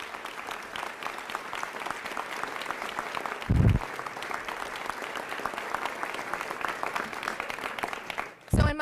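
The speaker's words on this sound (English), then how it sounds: "So give yourself a round of applause." Sustained audience applause in a room at a bill-signing event with Iowa Governor Kim Reynolds, steady dense clapping filling the clip, broken by a couple of brief low thumps.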